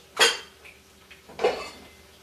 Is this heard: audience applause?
no